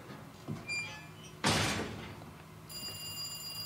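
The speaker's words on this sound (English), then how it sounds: "Oh, phone call." An old rotary telephone rings in Resident Evil 2. A dull thump comes first, then a bright, steady electronic ring starts near the end and carries on.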